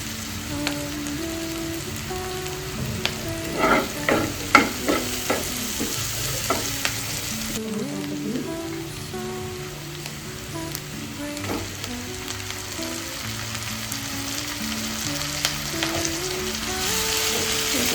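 Peanuts and seasoning for a moong dal (hesarubele) frying in a hot pan: a steady close sizzle with repeated scraping clinks of a spoon stirring, no voices.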